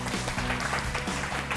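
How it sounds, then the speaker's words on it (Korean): An audience at a lecture show claps in a dense, continuous patter to welcome the speaker onto the stage, steady and moderately loud with no talking over it. "오늘의 강연자 이기화 대표님을 큰 박수로 청해보겠습니다."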